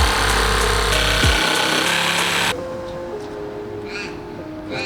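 A power saw cuts an angled line through a wooden board for a DIY studio desk, loud and continuous at close range, then drops away to a quieter hum and faint tail-off.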